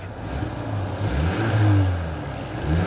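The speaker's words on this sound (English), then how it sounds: "we can hear this 2-liter EcoBoost engine" A 2025 Ford Maverick XLT FX4 with its 2.0L EcoBoost engine idles and revs gently, a low steady drone that rises in pitch mid-clip and eases back, heard close with no voices.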